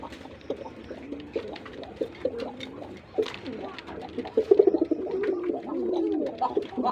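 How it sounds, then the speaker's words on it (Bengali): Local Bombay pigeons in a breeding loft coo in repeated low rolling calls, with a brooding hen on eggs nearby. The calls swell louder and quicker toward the end, with scattered wing and cage noises. "এটা আমাদের দেশীয় বোম্বাই কবুতর"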